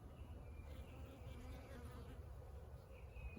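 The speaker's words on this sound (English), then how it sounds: "Oh gosh, there's lots of bees over here." Bees hum steadily around flowering plants in a spring vegetable garden, a soft continuous buzz close by with no talking over it.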